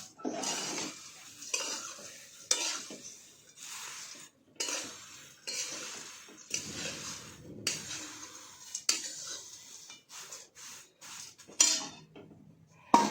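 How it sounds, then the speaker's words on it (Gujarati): Papad poha being stirred in a pan over a low flame, with bursts of spoon scraping and clinking against the metal pan in an irregular rhythm, broken by short pauses and a faint sizzle, no talk. "એને ધીમા તાપે જ હલાવવાના, જેથી કરીને બધો મસાલો મિક્સ થઈ જાય, ભાઈ પૌવા બળી ના જાય"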